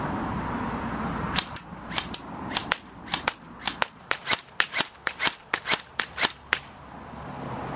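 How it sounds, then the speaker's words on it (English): An M4A1 fires semi-automatic at a target about 10 to 15 metres downrange. Around twenty sharp, snappy cracks come in quick, slightly irregular succession, fairly quiet overall with no speech. "A few shots of semi-auto first."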